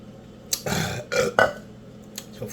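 A person fasting on juice and water lets out a few burps in quick succession, close and fairly quiet, each a short guttural croak with brief pauses between.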